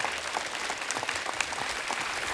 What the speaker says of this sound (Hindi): जोरदार तालियां हो जाए अजय अतुल जी के लिए।